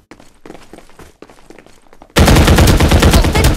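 Video game combat: light, scattered footsteps and thuds give way to a sudden, loud, sustained burst of rapid automatic gunfire that runs to the end.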